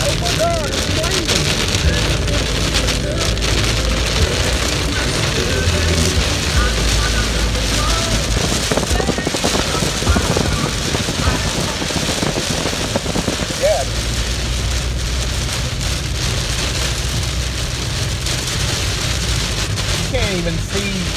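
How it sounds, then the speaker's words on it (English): Heavy rain pours steadily onto a car on a rainy day in Athens, a dense continuous hiss and drumming that lasts throughout, with voices talking inside the vehicle. "Oh my God, it's raining."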